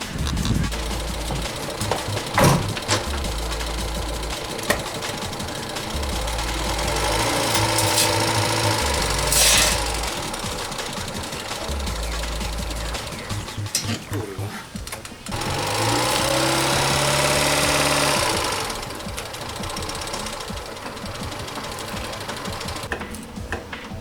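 A Fiat Seicento 900 engine runs loud and close as the small car is driven up onto ramps, with a rough, rattling drone that swells into two longer revving surges.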